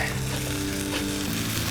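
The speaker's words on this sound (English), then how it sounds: "Listen to that sizzle. Listen to those cedar planks popping." Loud, steady sizzling of burgers frying on cedar planks, a close, dense crackle with occasional pops, no voices.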